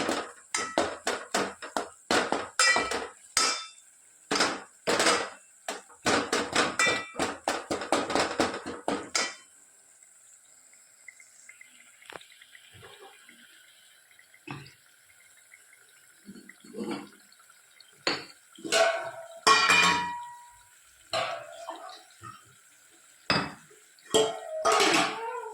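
A spoon knocks and scrapes against a pot while stirring and mashing tomatoes, first in a fast clattering run, then after a quieter stretch in scattered, heavier strikes, close and with no talking.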